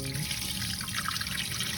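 Liquid from soaking raw sea moss poured off into a sink, a steady close splashing stream running for a short stretch without pause.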